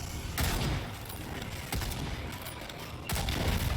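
Bursts of rapid video game gunfire from Second Extinction crackle in dense volleys, sharp reports stacking over a constant noisy wash, with a fresh burst near the end.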